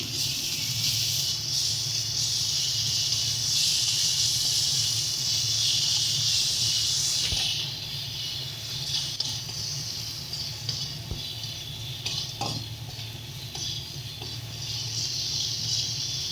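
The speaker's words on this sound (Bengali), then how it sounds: "আর জিরে গুঁড়ো দিয়ে দেবো স্বাদ মতো লবণ এবারে ভালো করে কিন্তু মশলাটাকে কষিয়ে নিতে হবে" Spice masala with ground cumin and salt sizzles in oil while it is fried for a tomato fish curry, a loud steady frying hiss that eases after a few seconds and continues more quietly, with a few faint clinks.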